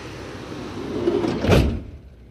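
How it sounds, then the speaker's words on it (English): A sliding door on a Ford Transit camper van rolls along its track and thuds shut, building over a second to one solid close, then a quick quiet. "Let's go ahead and close the door."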